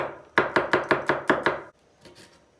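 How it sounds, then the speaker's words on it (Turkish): A knife chops garlic finely on a board with seven rapid, crisp, close knocks in a steady rhythm, then a couple of faint taps. "Hemen sarımsakları ince ince doğruyoruz."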